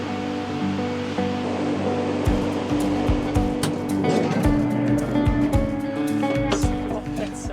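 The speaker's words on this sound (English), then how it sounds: "Wow, we're on the beach." Ocean waves washing onto a San Diego beach, a steady broad rush of surf with louder surges, accompanied by some wind or engine-like hum in the background.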